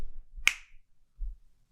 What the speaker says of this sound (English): So when I snap my fingers, he will forever be gone.